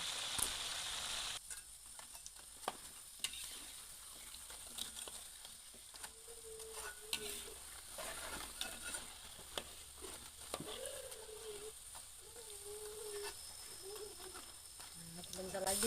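Slices of pisang tanduk plantain, coated in a garlic batter, fry in hot oil for banana chips, a soft, steady sizzle with occasional light clicks and stirring sounds throughout.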